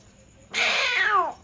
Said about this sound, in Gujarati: અહીં બિલાડી જાય છે